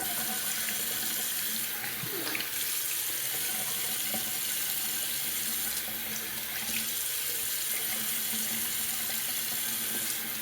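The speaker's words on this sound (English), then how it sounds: "let's do a cold water rinse." Cold tap water runs steadily into a sink for a post-shave rinse, a continuous splashing rush at moderate level with faint clinks in the background.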